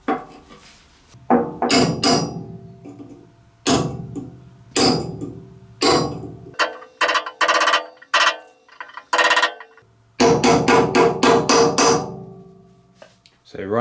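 Repeated sharp metallic hammer strikes fold a lock tab over onto a bolt head on a British lawn tractor under renovation. The blows come close and loud, in irregular clusters with short gaps.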